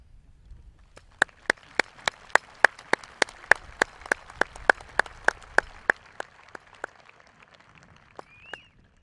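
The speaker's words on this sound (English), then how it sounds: "please stand up for a round of applause" Applause at a 2020 Danville High School graduation comes as about twenty sharp, separate claps in a steady rhythm, crisp and fairly close. They thin out and stop near the end, sounding like only a few hands.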